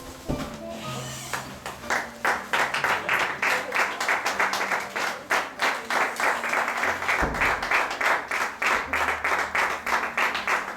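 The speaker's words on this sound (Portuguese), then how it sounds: "Aplauda o Senhor." A church congregation claps in a steady, rhythmic beat for about ten seconds, loud and close, with low sustained instrumental tones underneath.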